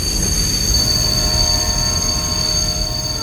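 A passenger train pulls to a stop at Thindal railway station, its wheels giving a steady high metallic squeal over a loud, continuous low rumble throughout.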